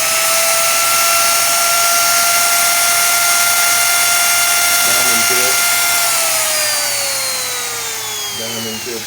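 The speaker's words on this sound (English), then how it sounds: "I also figured out subsequently that I could use a little Dremel tool" A high-pitched whine of a small diamond-tip Dremel rotary tool grinding a chainsaw chain, loud and close, holding steady and then dropping in pitch as it slows, with faint voice bursts underneath.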